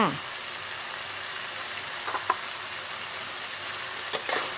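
Drunken noodles with holy basil stir-fried in a pan, a steady crackling sizzle throughout with a few scraping stirs of the spatula, close and moderately quiet.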